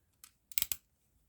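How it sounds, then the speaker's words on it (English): Scissors snip through a paper paint chip tag: a light click, then two quick crisp cuts close up in a quiet room. "Do want to also cut out this part by the tails."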